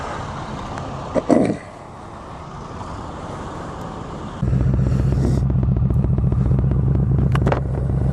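Yamaha V Star 1300 cruiser motorcycle fitted with Harley handlebars, first heard as faint wind and road noise, then a loud steady low engine rumble with a pulsing exhaust note from about halfway, close by, with no talking.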